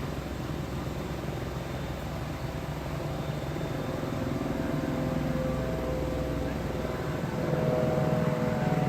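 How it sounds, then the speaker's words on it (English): Helicopter circling somewhere behind during a police standoff with an armed man barricaded at an assisted living home, a steady low rotor and engine drone that stays distant and continuous throughout, without talk. "Yeah, I think helicopter might actually be coming back."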